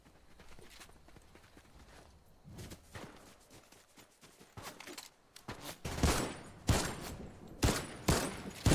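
Enemy players firing guns in an online video game, heard as quiet scattered shots that build into louder sharp bursts of rapid gunfire toward the end, with no talking.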